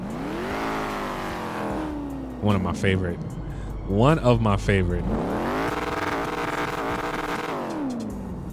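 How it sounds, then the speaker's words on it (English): A Mustang engine in a video game revs and roars, rising in pitch then settling, with someone talking briefly over it in the middle. "You guys get to hear what this Mustang sound like too."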